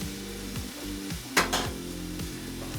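Filet mignon steaks searing in a hot pan, a constant close sizzle with a sharp metallic clink and scrape as the steaks are turned over, then the frying settles back in.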